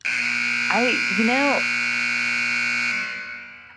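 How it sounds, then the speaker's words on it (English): A loud, steady electronic buzzer drones for about three seconds, briefly warbling near the start, then fades out. "I'm taking the buzzer off now."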